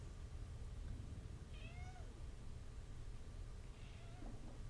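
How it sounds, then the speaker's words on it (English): A pet cat named Fred meows a few times in a room where beer fermentation bins bubble, the short rising calls faint over a steady background hiss. "It's my lovely cat Fred."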